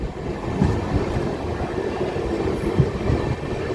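Nagawali Super Fast Express passenger train speeding through a junction station without stopping, a loud steady rumble of wheels on rails with rhythmic clacking, heard close from on board.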